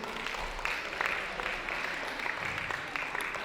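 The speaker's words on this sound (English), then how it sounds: "Another round of applause, please." Faint round of audience applause at an evening Ramadan festival presentation, a soft wash of distant clapping from a crowd running steadily under low background noise for a few seconds.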